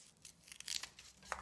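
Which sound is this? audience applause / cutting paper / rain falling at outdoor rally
cutting paper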